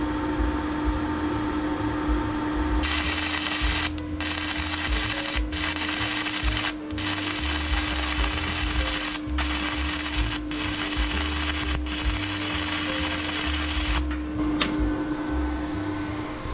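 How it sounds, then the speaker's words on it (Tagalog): Stick welding with an inverter welding machine set to 150 amps produces a steady, loud crackling sizzle that runs for about eleven seconds, with brief breaks in the arc, over a constant background hum. "Set natin sa stick welding."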